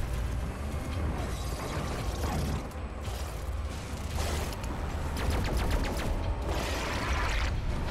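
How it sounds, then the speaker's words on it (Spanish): Rapid weapon fire in the first-person shooter Doom Eternal, dense bursts of shots layered over a constant, busy game soundscape, with a quicker rattling volley near the end. "Oigo disparos por aquí."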